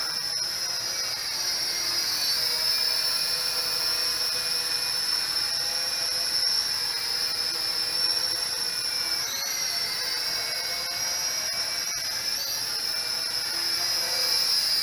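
Syma X5C quadcopter drone fitted with a replacement board in a defective frame lifting off and hovering, a steady high-pitched whining buzz of small propellers, close and constant with slight pitch shifts.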